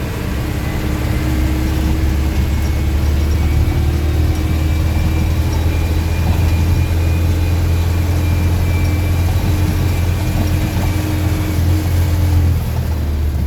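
A GAZ 3307 truck with an OM364 LA diesel engine and ZIL-130 gearbox, driving at around 80 km/h on a rough road, gives a steady, loud engine drone with road rumble throughout, heard from inside the cab.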